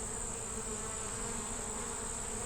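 Honey bees from an opened hive with a three-year-old blue-marked queen, a dense, steady buzzing hum close by that continues without pause.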